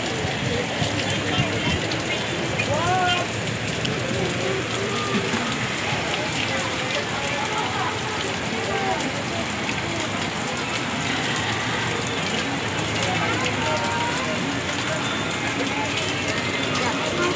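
Heavy rain pours steadily and loudly on surfaces throughout, with people talking faintly underneath.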